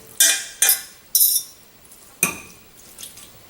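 Rinsed noodles are dropped into a bowl for spicy peanut noodles in a home kitchen, giving several sharp, wet clattering hits close by, three in quick succession, then a pause and a softer final pair.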